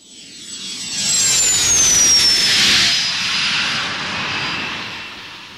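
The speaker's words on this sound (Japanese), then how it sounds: "用意ができたらすぐおじさんのフライングバイクで出発だ" A flying bike engine roars up and whooshes overhead in a drama sound effect, its jet-like whine rising and sweeping past before holding as a loud, steady rush that slowly eases, with no voices.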